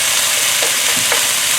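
Kale and spinach stir frying in a hot pan with semi-frozen ginger and garlic, giving a steady close sizzle throughout with a few soft stirring scrapes, no voices.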